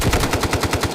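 Shotgun fire in the Delta Force Mobile video game comes as a rapid run of loud, punchy shots, about nine per second, close and continuous for a full second, with no talking.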